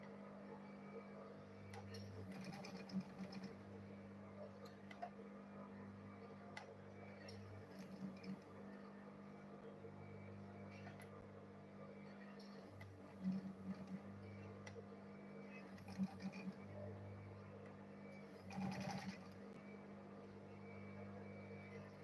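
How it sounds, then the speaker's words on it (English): A sewing machine stitches along the side of a fabric lunch bag, giving a quiet, steady motor hum with small ticking clicks and brief louder bursts every few seconds; no one speaks. "Then I'll go ahead and sew this side also."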